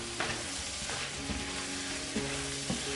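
Shrimp fry in a garlic sauce with seafood sauce, sugar and salt in a pan, a dense continuous sizzle overlaid by a few scraping stirs of a utensil, close and steady.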